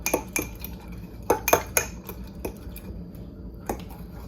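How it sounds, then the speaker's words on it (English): Fork clinking against a jar or bowl while stirring an overnight oats mixture, a series of sharp close metallic taps and scrapes, irregular and brief. "Grabbing a fork really quick so I can stir these up."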